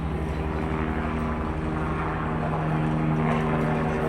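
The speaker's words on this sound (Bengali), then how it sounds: "নিশ্চয়ই তোমরা হেলিকপ্টারের আওয়াজ শুনতে পাচ্ছ" A helicopter bound for the Vaishno Devi temple near Katra station drones steadily from a distance, a continuous rotor and engine hum that swells slightly toward the end.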